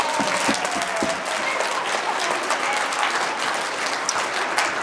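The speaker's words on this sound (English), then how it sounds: "Give them another round of applause" An audience at a school concert applauds its young performers, a dense, steady wash of clapping from many hands that fills the room from start to end.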